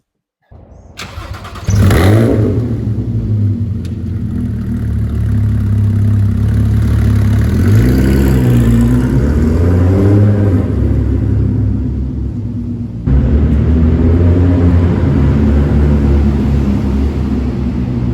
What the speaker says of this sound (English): this is really loud at startup